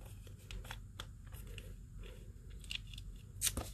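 Scissors snipping through catalog paper cards in a run of quick, close crisp cuts with light crunchy rustling, the sharpest snip near the end, no talking.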